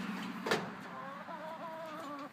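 A hen clucks softly inside a small backyard chicken coop she shares with her five chicks, a short run of low, close calls over a quiet background.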